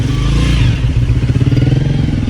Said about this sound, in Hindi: बाइक वाले भाई गुजर जाएंगे